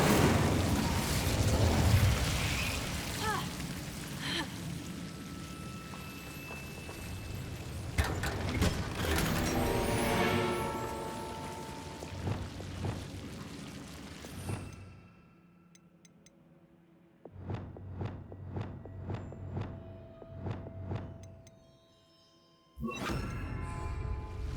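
A fiery Incendio spell bursts out in Hogwarts Legacy, a loud roaring whoosh with mechanical clicks and booms layered over game sound, then quieter ticking effects and a final burst near the end.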